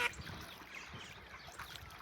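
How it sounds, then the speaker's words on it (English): Faint splashing and dribbling water with a soft quack or two, ducks paddling and taking a morning bath some distance away on a farm. "there are the ducks just having the morning bath"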